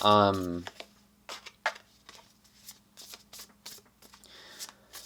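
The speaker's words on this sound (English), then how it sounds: "I'm going to pull another card before I speak to this." Tarot cards being shuffled and pulled by hand, with quick crisp riffles and soft slaps of cards close up after a short spoken opening, then a few scattered card flicks.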